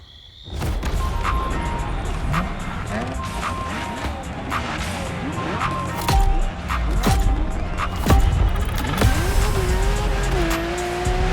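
Lamborghini Aventador in The Crew Motorfest video game: a loud engine roar with tire squeals, skidding and repeated crash impacts running continuously throughout.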